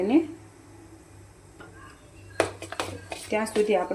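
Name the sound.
spoon stirring batter in bowl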